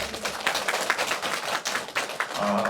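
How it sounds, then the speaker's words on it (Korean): Children in a Sunday school clap together in a brief burst of uneven, scattered applause, fairly close and steady across the room, with a voice briefly audible near the end. "우리 친구들 박수 한번 쳐주십시오."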